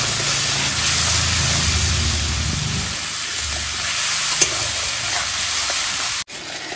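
Ground cumin and coriander masala sautéing in oil, a loud continuous close-up sizzle and hiss with soft scraping as it is stirred, running steadily throughout.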